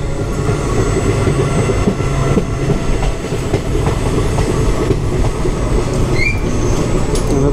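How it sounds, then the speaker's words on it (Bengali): Steady, loud rumble and rattle of a passenger train running on an Indian line near Baruipara, heard from on board, with continuous clatter of wheels on track and faint high squeals near the end. "ট্রেন।"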